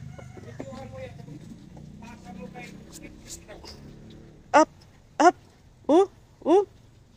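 A cat meows four times in quick succession, clear and fairly close, after a stretch of background talking and rumbling noise.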